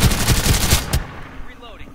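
SMG fire in the Farlight 84 battle royale game: a rapid burst of close, loud automatic shots for about a second, then quieter game effects.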